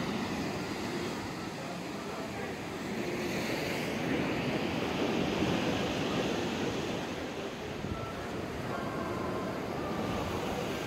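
Sea waves and wind on Massandra beach in Yalta in December, a continuous wash of surf with gusting wind buffeting the microphone, steady and moderately loud with no voices.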